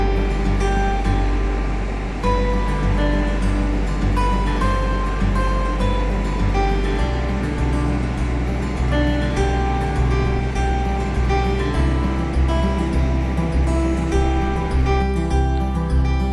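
Steady, loud rush of the fast-flowing Vangar river in the Himachal Pradesh mountains fills the scene, a continuous broadband roar with no voices, like standing right beside it.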